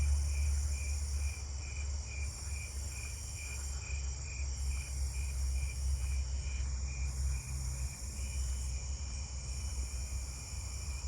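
A two-spotted tree cricket trills at night among other crickets and katydids, a steady pulsing chirp held over a continuous high insect drone, moderately distant and even in level.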